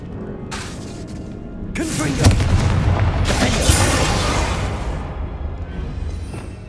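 A Bombarda blasting spell from the Hogwarts Legacy game erupts in a loud, sustained burst of explosive booms and shattering debris that swells and then slowly fades.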